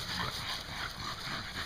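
Tired hunting dogs worn out after a rabbit hunt in hot weather whimpering, a continuous soft whining blended into a noisy outdoor background, fairly faint and without talk.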